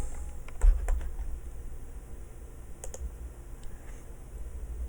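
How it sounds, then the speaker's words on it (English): Soft, sparse keystrokes on a computer keyboard, a few scattered clicks and taps over a faint steady background hum, with no voice. "So if I click after this closed curly brace for body, press enter, backspace, and type canvas,"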